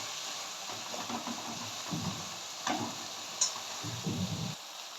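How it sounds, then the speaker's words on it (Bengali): Prawns fry with bottle gourd in a pan, a soft continuous sizzle broken by a few low stirring scrapes and a sharp tick, fairly faint, with no talk. "আমি এর মধ্যে দিয়ে দেবো চিংড়ি মাছগুলো। চিংড়ি মাছটা দিয়ে ভালো করে আমি কষিয়ে নেব।"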